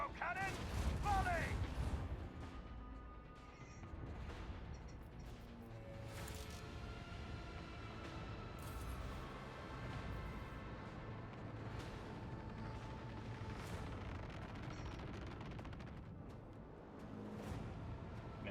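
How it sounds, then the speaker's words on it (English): Macro cannon volley in the video game Warhammer 40,000: Rogue Trader: a loud, sustained barrage of booming cannon blasts that merge into a continuous rumbling roar lasting the whole stretch. "Macro cannon, volley!"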